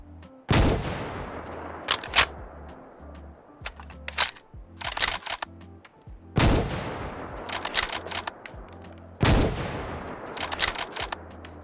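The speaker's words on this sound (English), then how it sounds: "Let's check out these firing sounds and these custom animations" Heavy sniper rifle shots from a modded SRS rifle in Fallout 4, four loud booming reports spaced a few seconds apart, each followed by rapid mechanical clicks and clacks of bolt and reload animations.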